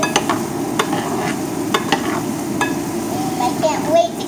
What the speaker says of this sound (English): when it starts frying, go on low and start stirring it up like this